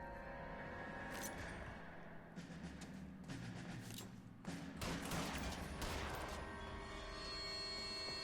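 Pistol gunshots in L.A. Noire ring out as several sharp cracks spread across a quiet, reverberant scene, a few bunched together midway over a steady low background.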